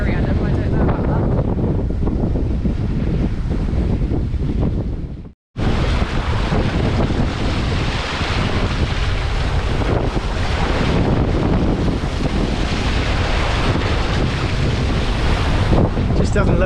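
Strong wind and rough sea with three-metre waves while sailing, a loud, continuous roar of wind buffeting the microphone and surging water, with a brief dropout near the middle.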